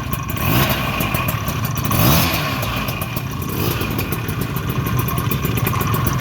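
Cold Baja AF28 scooter engine with stock carburetor, bored to 44 mm and with a noise on the fan side, idles and revs roughly with clattering, continuous and close.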